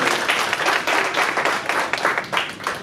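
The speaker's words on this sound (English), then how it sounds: "please give her a round of applause" Applause for a woman honored at an African community civic engagement event, a steady stretch of many hands clapping with uneven surges, moderately loud and close throughout.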